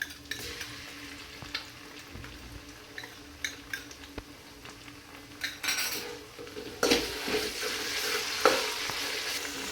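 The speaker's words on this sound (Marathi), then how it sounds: "आता आपण आलं लसूण पेस्ट टाकूया." Ginger garlic paste frying in hot oil in a pan for chicken biryani, with a steady sizzle and scraping spoon stirs that grow louder toward the end, no voices.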